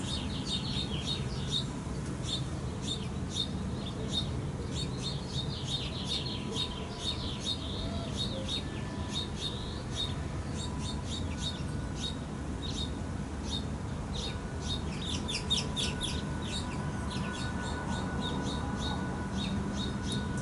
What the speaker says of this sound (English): Taking in the sounds of the birds.